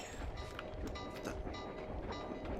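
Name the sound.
train passing by in the video game Sly 2: Band of Thieves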